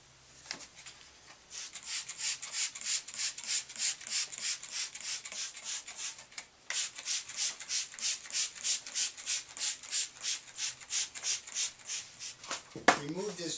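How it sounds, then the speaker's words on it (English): Drywall being pulled and scraped out of a wall during mold remediation, a steady run of rhythmic rubbing, crumbling strokes up close, with a sharp snap near the end. "take this piece of drywall out of here"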